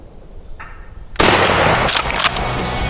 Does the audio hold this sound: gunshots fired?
yes